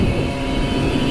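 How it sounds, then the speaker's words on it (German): A Simson 60cc moped engine drones steadily on a road ride, a continuous buzzing hum with wind noise, fairly close and without talk over it. "Ich höre dein Motor bis hier durch."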